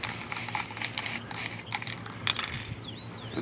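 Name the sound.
spraying primer from spray can onto miniatures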